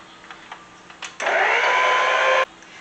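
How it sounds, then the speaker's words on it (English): Electric mixer whirring steadily on low speed through homemade brownie batter with vanilla, a continuous loud motor drone lasting just over a second after a few faint clicks and knocks. "Now we're going to mix this on low."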